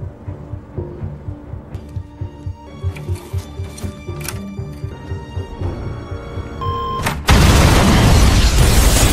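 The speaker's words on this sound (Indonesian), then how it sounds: "Bom meledak segera setelah penembak membuka gerbang utama dan Jim dan Annie kemudian pergi." A rhythmic mechanical pulsing runs along, then a sudden loud bomb blast erupts into a sustained, roaring wall of noise.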